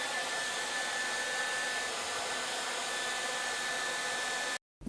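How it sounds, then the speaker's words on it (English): A hairdryer blows with a steady, loud whooshing hum close by, drying painted silk, then cuts off abruptly near the end. "Now I'm just going to dry this with a hairdryer"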